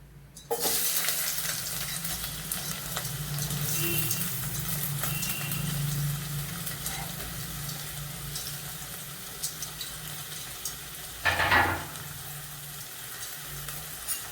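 Thinly sliced onion sautéing in a wide pan for dal curry, a low, even sizzle with occasional stirring scrapes and one brief louder clatter near the end, no voices.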